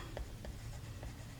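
A blue pen writes by hand during a maths lesson, producing faint rhythmic scratching strokes against a loud, constant hiss.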